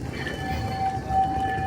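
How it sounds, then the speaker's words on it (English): An electric tram in Hiroshima rolls by with a rumbling rail noise and a thin, steady whine over the street din, heard briefly and close. "Little tram network, electric trams."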